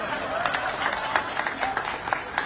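An audience at the inauguration of a garden in Mumbai claps in scattered, uneven bursts rather than a full ovation, the claps sharp but sparse against a murmuring room where someone talks.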